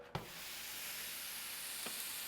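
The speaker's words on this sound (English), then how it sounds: "Create a nice big sizzle." Ground beef hisses and sizzles steadily in a hot pan, a broad crackling hiss with a couple of soft scraping knocks, no voices.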